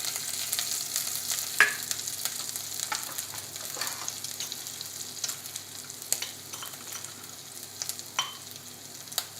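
Ginger and spices for instant dosa batter sizzle and fry in a pan, a steady hiss broken by occasional sharp crackles and stirring scrapes, close and fairly loud, with no one talking.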